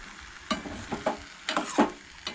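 Ghosalyachi bhaji, a Goan ridge gourd dish, being stirred in a pan, with several scraping, shuffling strokes over a soft sizzle, close and fairly clear, no talking.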